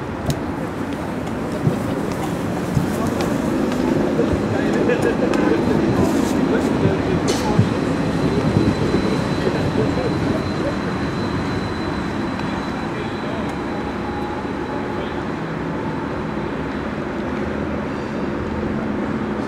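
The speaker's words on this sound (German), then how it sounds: "Straßenbahn fährt noch." A tram runs along a city street that police have closed off, its low rumble rising and then holding steady for about twenty seconds under faint background voices.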